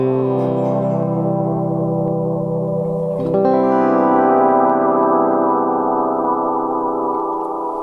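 A Meris LVX delay pedal running a ladder filter effect gives dense, sustained layered tones with smeared echoes and a distinct tonal shift partway through, loud and continuous with no gaps.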